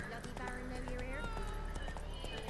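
Hoofbeats of the horse Roach galloping through The Witcher 3: Wild Hunt, a steady clip-clop rhythm running the whole time beneath music and talking voices.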